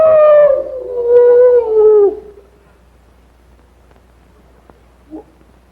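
A voice imitates a wolf howl, two drawn-out wavering howls back to back, followed by quiet and a faint brief sound.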